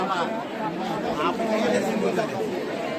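Steady, close chatter of a huge crowd at Bhimashankar temple, countless overlapping voices merging into one continuous babble.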